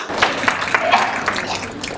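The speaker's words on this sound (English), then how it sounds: "Please give her a big round of applause." An audience at an education technology event under the Digital India banner applauds with a steady wash of many hands clapping. It is moderately loud and fairly even throughout, with individual claps standing out now and then.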